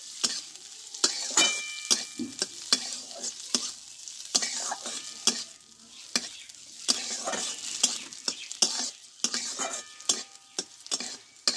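Continuous hiss of raisins frying in hot oil, broken by frequent scraping and clicking as a spoon stirs the pan, close and steady.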